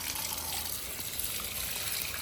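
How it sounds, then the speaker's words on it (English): Water runs from a threaded bathtub spout fitted with a custom aerator, a soft, even, continuous rush with no splashing bursts, steady and fairly quiet from start to finish. "this tub spout has a custom aerator, so the water flows nice and evenly without hitting the tub too hard"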